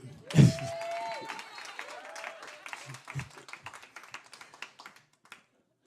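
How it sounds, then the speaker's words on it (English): Audience at a storytelling show applauds with a loud burst of clapping that gradually thins into scattered individual claps and fades out. "You can clap for that."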